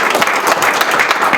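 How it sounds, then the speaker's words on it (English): Applause for a team at a school food pantry grand opening: a dense, steady burst of many hands clapping, loud and close, filling the whole short stretch without speech. "I want to give our RH team a round of applause"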